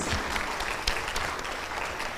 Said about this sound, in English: Let's give a round of applause once again for the amazing panelists.